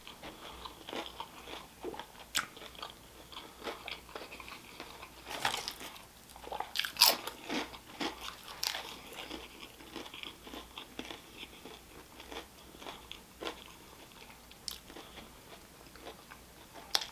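Flamin Hot BBQ Ruffles potato chips are bitten and chewed close to the mic. Repeated sharp crunches and crackly chewing come in irregular bursts, mostly soft with a few louder bites, and no talking.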